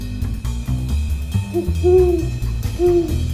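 Radio drama scene with layered hoots imitating an owl call, several drawn-out tones in a short sequence over a low, thumping musical backdrop.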